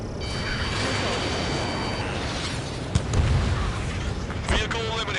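Missile explosion in a console shooter, a broad rumbling blast with sharp booming impacts around the midpoint, set against ongoing game noise and a voice.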